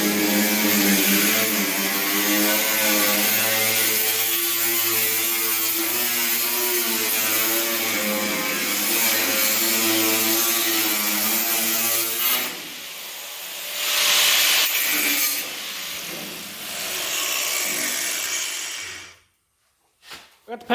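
Power tool cutting off a rusty car body panel, a loud sustained grinding whine with a strong pitched drone, then shorter bursts and pauses before stopping.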